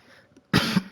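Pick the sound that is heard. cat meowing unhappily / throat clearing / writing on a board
throat clearing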